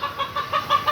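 A rooster on a chicken farm gives a quick run of about six soft, rhythmic clucks, close and fairly quiet, with no voices.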